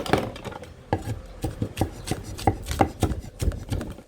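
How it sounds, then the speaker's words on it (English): A knife finely chops a bowl of peeled garlic on a board, producing rapid, irregular close thuds and scraping taps in quick succession. "Just finely chop it because I need to fry it with the vegetable"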